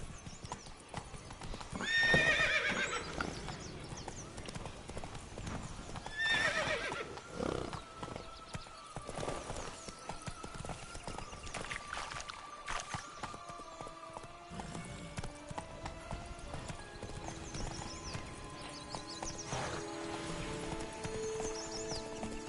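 Roach, a horse in The Witcher 3, gallops with steady clip-clop hoofbeats and loud whinnies near the start, continuing through a busy game soundscape with music and background effects.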